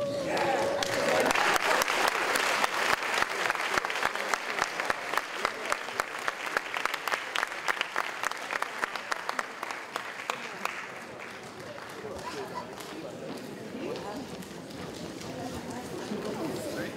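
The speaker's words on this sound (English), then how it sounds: "Give them one more round of applause" Sustained applause from an audience at a high school senior awards night, a dense wash of clapping that gradually thins and softens toward the end.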